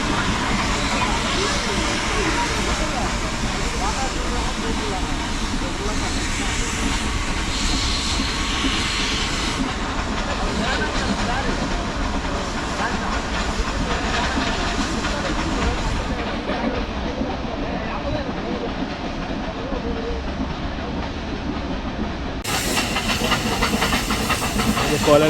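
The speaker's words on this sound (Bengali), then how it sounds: "এখানেও কিন্তু কয়লার ইঞ্জিনের ট্রেন চলে" A coal-fired steam toy train runs near Ooty with a continuous loud hiss of steam and a rumbling rail roll underneath. The sound holds steady from close by, and voices are heard over it.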